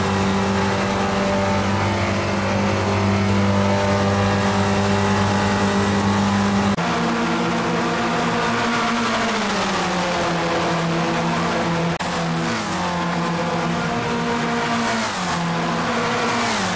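Ford SpecRacer race cars at Daytona in the iRacing game, a loud continuous engine drone whose pitch steps up through gear changes and rises and falls as cars pass, with faint tire noise and no speech.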